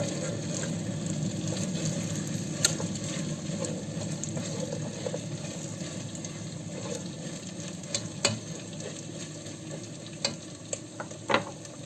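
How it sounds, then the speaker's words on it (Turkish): Peas sautéing in a pot with potatoes, a soft continuous sizzle with occasional sharp clicks and scrapes of a spoon against the pot. "sotelenmesi için tencereme bırakıyorum."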